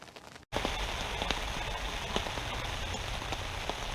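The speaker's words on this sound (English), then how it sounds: "It's actually chucking it down now." Heavy rain pouring down outdoors at a pike fishing spot, a dense steady hiss and patter of drops on surfaces close by, continuous and loud after a brief gap at the start.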